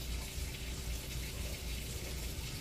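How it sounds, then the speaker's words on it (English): A steady stream of water runs into a cooking pot for chicken and rice soup, giving a constant near rush and splash throughout with no talking. "Just two more cups of water."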